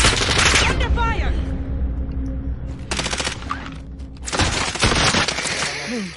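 Call of Duty Warzone gunfire rattles out in loud, close bursts of rapid automatic shots, broken by short pauses, while players talk over the game sounds.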